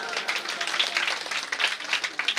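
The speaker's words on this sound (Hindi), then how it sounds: "भाई जोरदार ताली हो जा" Dense, steady crowd clapping at a Shrimad Bhagavat Katha religious gathering in Ghaziabad, a broad patter of many hands that holds fairly even across the short stretch.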